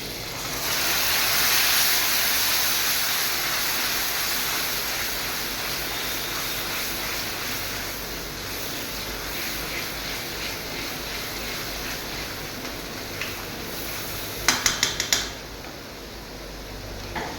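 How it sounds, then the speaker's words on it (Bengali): Rinse water poured into a hot pan of ginger and garlic for spicy chicken, giving a steady loud sizzling hiss that slowly fades, with a few brief clinks near the end. "আমি এটাকে একটু ধুয়ে এই জলটা দেবো এখানে"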